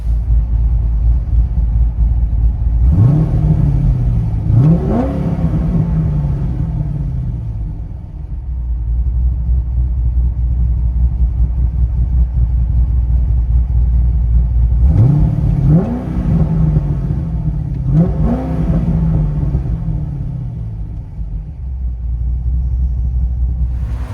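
A deep, rumbling cammed 7.0L V8 in a Chevy Corvette Z06 with headers and Corsa Sport exhaust idles loudly, then revs sharply twice, pauses, and revs twice more, each blip rising and falling back to a lumpy idle.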